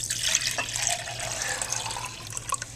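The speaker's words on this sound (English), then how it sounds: "Now I'm going to pour the water back in the beaker to measure it." Water is poured back into a glass beaker, a steady splashing, trickling pour heard up close and fairly soft, with no one speaking.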